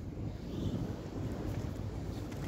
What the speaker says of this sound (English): keeping away from the wind because it is very, very windy down here today